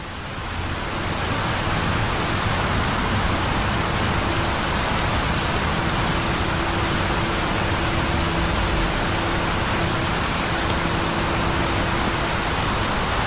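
Steady, dense rain pours down as a loud, continuous wash of noise with no voices.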